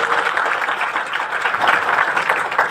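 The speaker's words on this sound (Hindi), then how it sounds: "जोरदार ताली।" An audience at a Khatu Shyam temple bhajan gathering breaks into loud, dense applause that continues steadily, close and full, with no talk over it.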